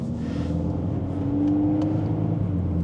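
A Volkswagen Golf 8 R drones steadily from inside the cabin while driving on country roads, its engine note rising and holding in a smooth, loud revving hum.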